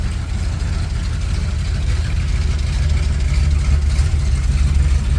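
An old motorhome engine idles steadily with a deep, rumbling low drone, close and continuous with a slight lift toward the end.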